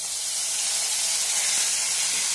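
Masala paste hits hot oil already seasoned with bay leaf and cumin, giving a loud, steady hiss and sizzle that stays even from start to finish, with no talking.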